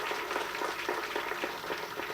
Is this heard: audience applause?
yes